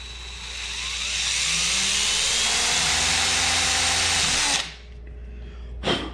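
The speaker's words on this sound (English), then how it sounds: "So what I like to do is start out with an 1/8 inch bit." A power drill fitted with a 1/8 inch bit bores a pilot hole while a Minn Kota trolling motor is being prepped on a Pescador PRO kayak. The motor whines loud and steady for about four and a half seconds, then stops, and a short burst follows near the end.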